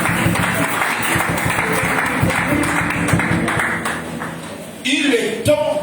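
A church congregation applauds and cheers in praise, dense sustained clapping filling the room with voices calling out over it, then a louder burst near the end.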